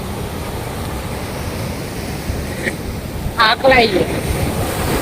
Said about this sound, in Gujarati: દરિયો ફૂલ કરંટમાં છે